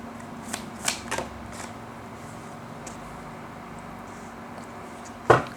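Tarot cards being shuffled up close, a few crisp riffling bursts early on, then quieter handling and a sharp snap near the end.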